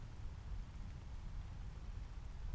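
Rain falls in a steady, dense patter, a continuous even hiss with a low rumbling wash underneath and no voices.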